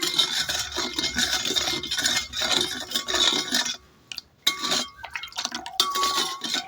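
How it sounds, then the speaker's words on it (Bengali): A spoon stirs sugar melting in a pan, a repeated scraping and rasping with a few short pauses, close and moderately loud, with no talking. "এখন চিনিটা গলিয়ে নিব নাড়াচাড়া করে"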